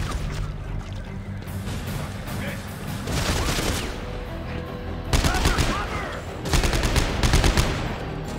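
Dead Space 3 combat: weapon fire and impacts burst out in loud rapid volleys against a dense, noisy game soundscape, with a voice partly over the shooting.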